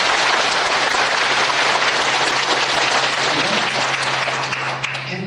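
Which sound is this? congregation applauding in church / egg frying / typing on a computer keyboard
congregation applauding in church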